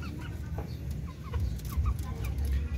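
Darag native chicken rooster and hen, breeder stock on a farm, giving a series of short clucks and chirpy calls over a low rumbling background, fairly close.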